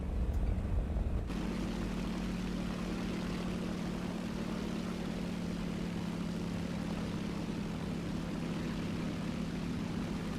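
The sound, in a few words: aircraft engine in video game War Thunder air battle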